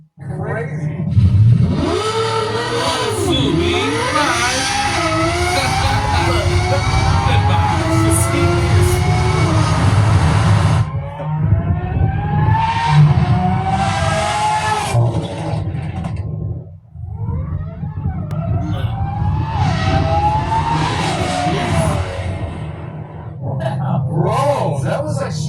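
Lamborghini Revuelto fitted with a Gintani exhaust revving hard and accelerating in a straight line, its loud engine note climbing through smooth upshifts, with brief drops between pulls and people talking excitedly over it.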